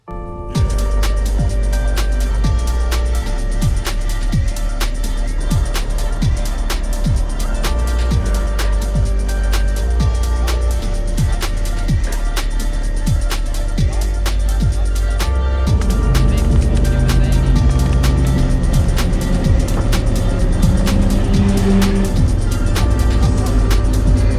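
Cars, including a Camel and a Micro, drive hard along a winding country road on a trip to the Nurburgring, heard from inside as a loud, constant engine drone and road roar with rhythmic ticking and a rise in pitch midway.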